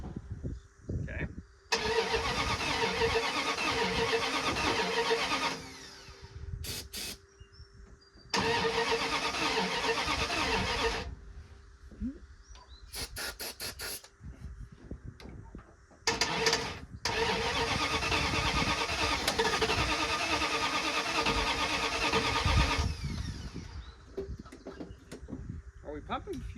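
A Dodge M880 W-200 military truck engine cranks loudly in long bursts with pauses between them, then catches and runs, close up, with people talking around it.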